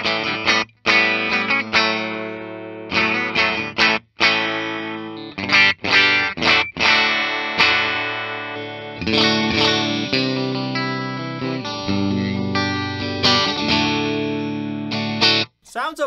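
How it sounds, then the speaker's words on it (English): Fender 70th anniversary Ultra Stratocaster electric guitar with a split humbucker tone blended in, played through effects with distortion and chorus: steady chords and riffs, loud and close, with brief stops. "Sounds okay when it's blended."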